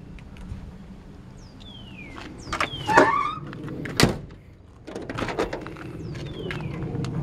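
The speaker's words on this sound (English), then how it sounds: "All the doors open and close easily." Doors of a 1957 Chevrolet 210 being worked, with squeaky hinge creaks and a couple of solid metallic slams and latch clunks spaced a second or so apart, heard close up without talk.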